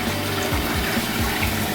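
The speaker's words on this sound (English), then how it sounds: "As you can see, the water still is allowed to go through it." Water flowing through a straight-fit backwater check valve in a sewer line, a steady loud gushing and burbling with a low pulsing churn, continuous and close.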